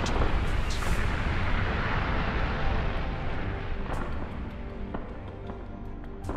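A steady rumbling roar of explosions in the video game Redeemer, with scattered sharp pops and crackles, fairly even throughout and slowly easing in loudness.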